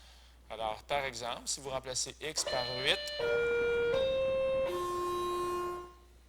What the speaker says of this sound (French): ça, c'est le son de la cloche